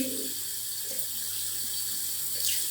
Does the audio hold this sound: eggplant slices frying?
no